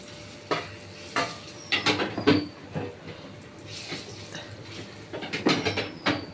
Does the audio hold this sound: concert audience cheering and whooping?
no